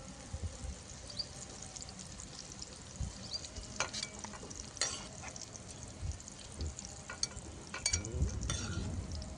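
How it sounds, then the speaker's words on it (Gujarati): Garlic sizzling briefly in hot oil for methi paneer, a moderate steady fry with intermittent stirring scrapes and spatula knocks, the sizzle swelling louder toward the end. "તો લસણ વગેરે આપણે સાતળવાનું નથી, થોડીક જ વાર આપણે ખાલી તેલમાં સુગંધ આવે ને ત્યાં સુધી સાતળવાનું।"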